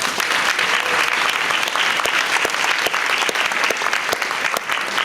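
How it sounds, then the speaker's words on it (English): Crowd at a Martin Luther King Jr. Kingdom Day Parade breakfast celebration giving a sustained round of applause, dense and steady throughout with sharp individual claps standing out. "Round of applause."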